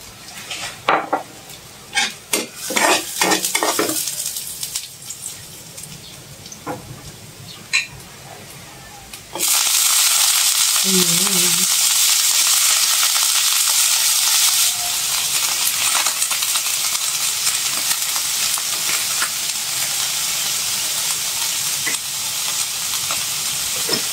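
Bitter gourd (ampalaya) cooking in a pan at home. Light clinks and taps of utensils come first, then a sudden loud, sustained sizzle bursts in and continues close up, with a brief voice-like sound partway through.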